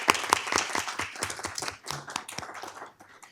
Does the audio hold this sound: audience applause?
yes